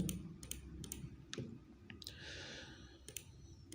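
Several sharp computer mouse clicks during Photoshop healing and patch tool work, spaced irregularly over a quiet low hum, fairly close and crisp.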